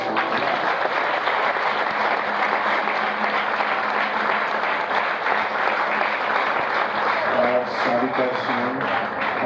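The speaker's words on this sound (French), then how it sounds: "un bel applaudissement." Loud, continuous applause fills a church celebration honoring a bishop's elevation, many hands clapping at once, with some singing or voices emerging near the end.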